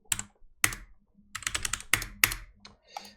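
Computer keyboard keys are pressed in irregular bursts, crisp close clicks with short pauses between them, quiet and with no voices.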